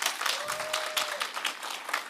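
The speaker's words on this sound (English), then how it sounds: "Please clap hands for yourselves." Graduates at a City of Johannesburg skills development programme graduation ceremony clap for themselves, a brief burst of dense crowd applause with no speech over it.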